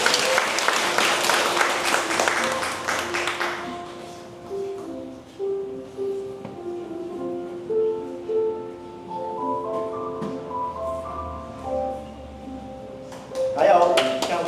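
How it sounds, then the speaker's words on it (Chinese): A church congregation at a Linkou Presbyterian Church Sunday service bursts into dense, fairly loud clapping for a few seconds, which then fades into soft tonal music and quiet speech. "来，拍手。"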